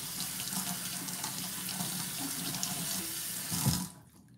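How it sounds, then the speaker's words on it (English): Kitchen tap water running steadily over a knife being rinsed at the sink, a continuous close splashing stream that swells briefly near the end before cutting off. "let me rinse off my knife here"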